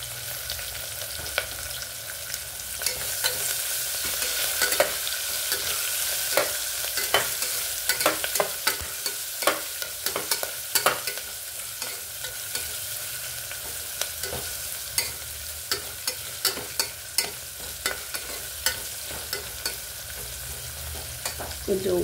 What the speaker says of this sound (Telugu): ఇప్పుడు ఉల్లిపాయ ముక్కలు, కరివేపాకు వేసేసుకుందామండి.